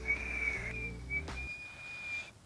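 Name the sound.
person attempting a loud whistle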